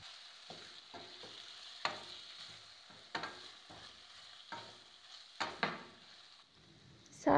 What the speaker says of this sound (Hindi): अब मैंने इसमें शामिल किया है चिकन और इसको मैं मज़ीद थोड़ी देर के लिए फ्राई